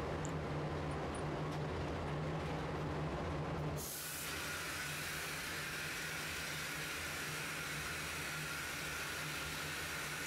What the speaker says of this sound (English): now I'm going to get the air gun